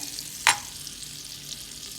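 Chopped garlic fries in softened butter in a pan with a steady, close sizzling hiss and a single sharp clink of a utensil near the start.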